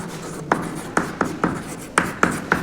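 Chalk or marker writes on a board in a series of short, sharp taps and strokes, about seven distinct marks in a steady rhythm, close and fairly clear.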